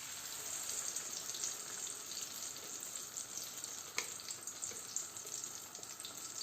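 Ground spice masala hits hot oil in a pan for a fish bone curry, giving a steady, close sizzle and crackle throughout, with a couple of brief clinks of stirring.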